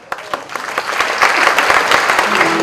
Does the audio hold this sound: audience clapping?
yes